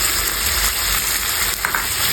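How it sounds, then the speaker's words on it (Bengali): Mutton with salt, dried chili powder, black pepper, cumin paste and green chilies sizzles and fries steadily in a pan, a dense continuous crackle up close with faint stirring scrapes and no talking. "এখন ভালোভাবে কষিয়ে নেব।"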